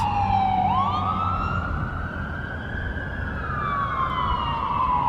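An ambulance siren wails loudly and steadily, its pitch rising and falling as it passes near a construction area by an Olive Garden, with traffic rumble beneath.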